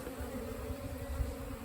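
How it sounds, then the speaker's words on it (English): Honey bees buzzing around wet beehive frames, a continuous low droning hum with a steady level, close by and alone without any talk. "Bees are interested in them."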